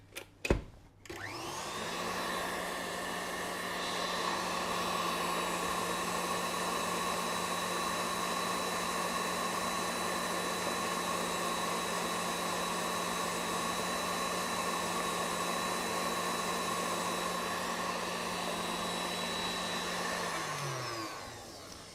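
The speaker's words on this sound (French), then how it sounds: "Avant de fouetter à nouveau" An electric whisk whips cream for a red-fruit layer cake, a steady close motor whine with a buzzing hum that runs unbroken for about twenty seconds before winding down.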